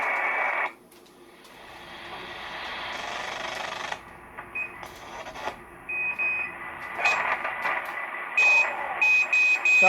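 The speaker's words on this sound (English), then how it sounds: "Sounds like beepers." Beeping signals picked up over a software-defined radio scanning amateur bands, with repeated short tonal beeps cutting in and out over hissing static and noise bursts, fairly loud throughout.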